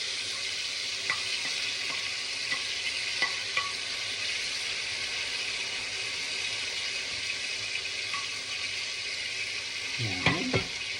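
Eggplant frying in a pan for tortang talong gives a steady, fairly loud sizzle throughout, with a few light clicks of a utensil and a brief bubbling flare near the end.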